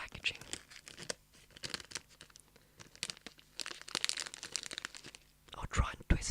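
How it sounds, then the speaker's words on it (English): Crinkly sparkler packaging is handled close up, producing bursts of crackling, rustling crinkles that come and go irregularly, with quiet pauses between handling. "So, the sparklers make quite a nice crinkly sound,"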